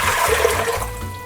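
Four cups of water pour steadily into a pressure cooker for a beef yakhni pulao, a continuous rushing splash that stays close and fairly loud throughout.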